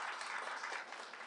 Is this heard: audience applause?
yes